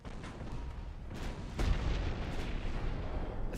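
Torpedo hits in the naval warship game Ultimate Admiral: Dreadnoughts come as a few dull distant booms over a constant low rumble of battle noise, with one heavier thud standing out midway.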